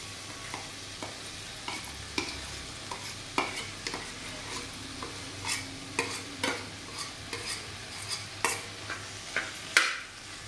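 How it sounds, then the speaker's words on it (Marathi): A spoon stirs and presses mashed boiled potato filling for samosas in a pan over a soft sizzle, with irregular scraping and clinking taps against the metal repeating every half second or so, close and fairly quiet. "चमच्याने छान अशी भाजी प्रेस करून अशी मस्त अशी मिक्स करून घेतलेली आहे बघा"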